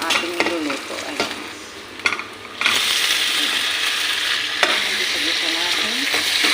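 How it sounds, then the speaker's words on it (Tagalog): Sardines and bottle gourd sauté in a pan, scraping stirs and clinks over a sizzle that jumps to a loud, steady hiss partway through, close up and with no talk. "Gisa-gisa natin."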